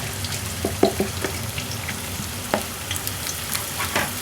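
Onions fry in ghee in a pan for a kabab masala, giving a continuous close sizzle broken by scattered clicks and scrapes of stirring.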